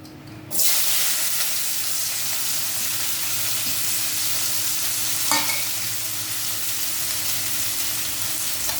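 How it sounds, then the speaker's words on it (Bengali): Hot oil bursts into a loud, steady hiss as pieces go in to fry for a taki fish curry, sustaining a dense sizzle with a single sharp stir or clatter midway. "এটা ভালো করে ভাজতে হবে। তেল গরম হয়ে গেছে।"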